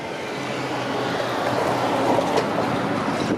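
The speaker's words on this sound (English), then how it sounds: "The Cummins engine. Let it rip, let it fly." A city bus with a Cummins engine revs along a Toronto street, a loud, steady broadband roar that builds slightly over a few seconds, close by and with no talking.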